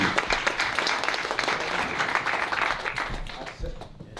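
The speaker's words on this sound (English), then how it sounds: "Let's give her a hand clap as she makes her way to the stage" Warm, close applause from a church congregation at an MLK celebration rolls on steadily, then thins and fades toward the end as a panelist walks to the stage.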